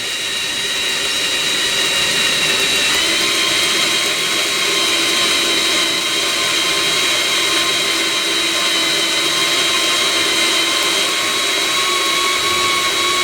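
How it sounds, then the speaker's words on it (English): A power drill bores steadily into a snapped-off exhaust stud. It gives a continuous, even, high-pitched whine with a metallic edge that holds for over ten seconds, with no one talking. "So you'll need to drill with a good speed."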